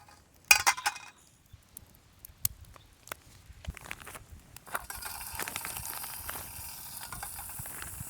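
Small sausages frying in a pan at a quiet forest campsite, a steady close sizzle rising after scattered clinks and knocks of cooking gear in the opening seconds.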